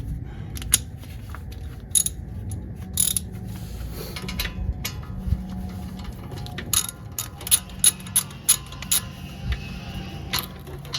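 A socket wrench ratchets in quick bursts of sharp metallic clicks during brake and wheel bearing work on a VW GLI, with short pauses between runs of clicking and a low garage hum underneath.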